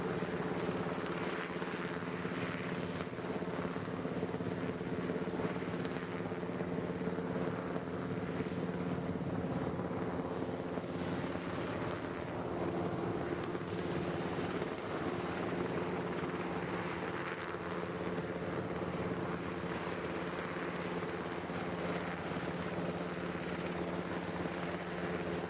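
A Coast Guard Jayhawk helicopter hovers during an air show rescue demonstration, its rotor and turbine drone loud, steady and unbroken throughout, with no voices audible.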